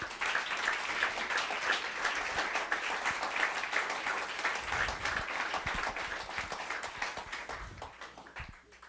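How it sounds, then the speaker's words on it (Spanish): A church crowd applauds continuously, a dense wash of many hands clapping that fades toward the end. "Dale un aplauso al Señor."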